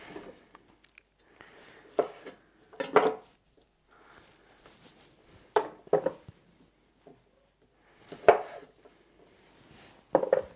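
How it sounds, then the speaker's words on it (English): Knife cutting the ends off Brussels sprouts on a board, a series of sharp close chops and crunches spaced irregularly with quiet pauses between them. "So I'm just going to cut the end off,"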